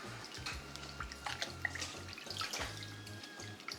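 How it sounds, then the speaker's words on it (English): Cooked gailan for cold sesame noodles being cold shocked in a bowl of cold water, soft splashes and drips with quiet sloshing at close range, faint and intermittent, no talk. "We're gonna also cold shock it in water, in cold water, so that it stops cooking any further."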